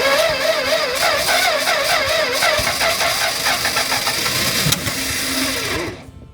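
A classic Dodge truck that sat for 30 years is cranked over, the starter whirring in a rapid pulsing rhythm that settles into a rough, wavering idle before cutting out, close and loud.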